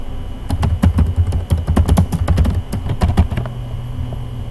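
Rapid typing on a computer keyboard, a loud, close burst of crisp keystrokes for about three seconds that then stops, leaving a quiet hum.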